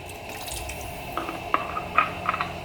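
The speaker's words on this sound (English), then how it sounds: "you're gonna put the littlest bit of vinegar" A small splash of vinegar is poured into a pot of Cuban black bean soup, heard as a few quiet, close liquid drips and trickles over a low background.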